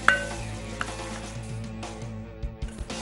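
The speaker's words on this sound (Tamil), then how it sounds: "இந்த வெங்காயத்தை நல்லா இந்த ஹீட்லேயே இதை நல்லா வதக்கியாச்சு" Onions sauté in a pan over heat with fenugreek seeds, a soft steady hiss, a few scraping stirs, and light clinks of a utensil against the pan.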